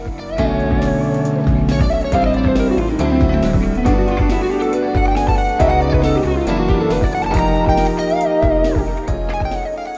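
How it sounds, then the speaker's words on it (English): Guitar chords strummed in a steady progression while a melodic lead line weaves over them, full and continuous throughout; a guitar solo. "Let me play this chord progression along with the solo so you can hear kind of what it sounds like"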